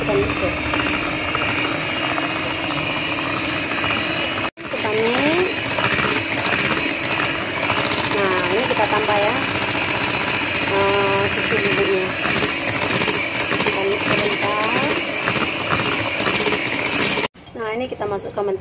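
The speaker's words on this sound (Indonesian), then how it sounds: "Ini udah kita mixer." An electric hand mixer running at low speed beats kue pukis batter in a bowl, a steady loud mechanical whir with rattling that continues almost nonstop, broken by two brief stops, while a voice talks over it.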